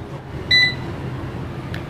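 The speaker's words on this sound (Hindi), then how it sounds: "15 मिनट का मैंने टाइमर सेट कर दिया यहाँ पे" An air fryer's control panel gives a single short, clear electronic beep while its cooking timer is set, with a fainter blip moments later over a steady low kitchen hum.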